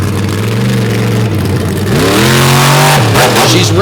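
The Sinistar monster truck from Sendit Motorsports revs hard at a monster truck show, its engine climbing in pitch and then dropping back, loud and close, with crowd noise mixed underneath.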